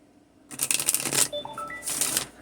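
A deck of oracle cards is shuffled up close, a crisp riffling flutter that starts abruptly, runs in quick bursts with a brief lull, then riffles again.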